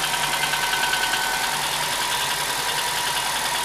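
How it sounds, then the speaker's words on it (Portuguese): A car engine idles steadily with a worn valve tappet in the cylinder head, giving a continuous mechanical hum laced with rapid, regular ticking, close and fairly loud with no talking. "Esse é o tucho do motor que está desgastado ali do cabeçote."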